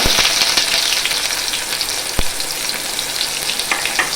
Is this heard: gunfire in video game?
no